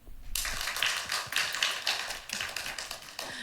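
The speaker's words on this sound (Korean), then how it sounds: "박수 한번." A church mission conference audience breaks into applause, a steady patter of many hands clapping at moderate volume with no talking over it.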